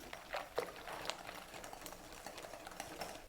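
Coconut cake batter stirred in a bowl, a soft wet patter and scraping with a few sharper clicks of the utensil against the bowl, steady and close for a few seconds.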